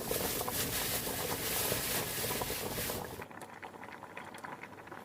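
Korean beef bone broth (sagol-guk) made with Hanwoo bones and shank boils in a pot, a dense, steady bubbling and seething close up that turns abruptly quieter and softer partway through.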